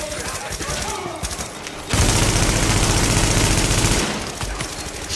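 Rapid automatic gunfire from The Division video game erupts in a loud, dense two-second burst, framed by quieter in-game sounds and talk on either side.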